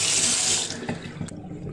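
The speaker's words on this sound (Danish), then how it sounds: "Så putter man noget koldt vand i." Cold tap water runs from a faucet into a pot being filled for boiling eggs, a loud steady gush that thins and drops in level after about a second.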